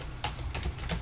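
Typing on a computer keyboard while entering a command in a terminal during a brute-force demo: a few separate key clicks, close and fairly soft, spaced out over a low steady hum, with no voices.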